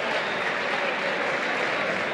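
Crowd applause for boxer Diego Báez after his fight, a steady dense wash of clapping at moderate level with no break across the whole moment.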